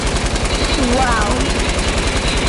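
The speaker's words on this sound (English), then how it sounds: "Who got an LMG shooting at me?" Rapid, steady automatic fire from a light machine gun in a video game, a continuous mechanical rattle throughout with a voice talking briefly over it.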